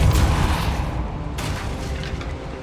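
Depulso spell cast in the video game Hogwarts Legacy, heard as a loud, booming burst with a heavy low rumble that decays into a rushing, whooshing tail.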